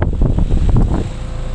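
A 2007 Trane XL16i two-stage 5-ton straight-cool air conditioner with a reciprocating compressor runs as a loud, steady, windy whoosh with a low rumble, close to the microphone and with no voices.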